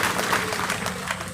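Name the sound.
audience applause at a rally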